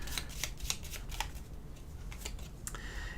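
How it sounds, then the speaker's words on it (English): Board game cards from The Wilderness being shuffled by hand, a run of quick crisp riffling snaps and flutters at close range with no talk. "Let's give these a little shuffle here."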